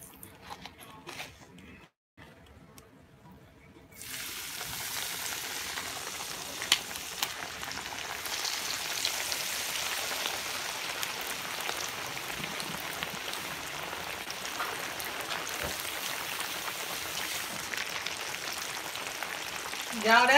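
Perch fillets frying in a pan give off a steady, close hiss of sizzling oil that rises sharply after a quiet opening and carries on without a break.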